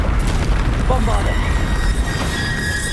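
Bombarda spell blasts in the video game Hogwarts Legacy, a dense, rumbling boom sustained across the moment with low-end weight and bright magical shimmer over it, mixed with background game sound.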